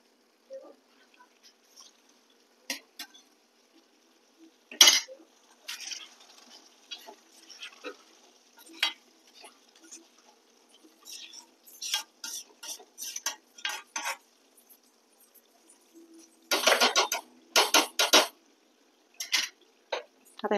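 Drumsticks are stirred into masala in a pot, giving scattered scraping and clinking spoon-on-pot sounds with louder clustered bursts, mostly close and intermittent.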